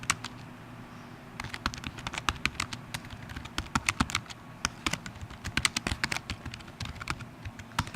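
Rapid, uneven keystrokes clatter on a computer keyboard while someone types a document, close and crisp bursts of clicks with short pauses over a quiet room hum.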